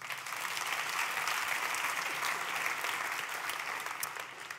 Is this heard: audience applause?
yes